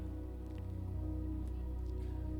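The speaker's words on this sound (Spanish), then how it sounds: "La lluvia." Rain falling in a steady, soft patter, faint and continuous with no talking.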